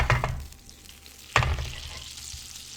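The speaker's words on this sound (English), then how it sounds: "You can hear my butter sizzling" Quiet, low crackling sizzle of butter frying in a pan, with a couple of louder clattering bursts as the food is stirred.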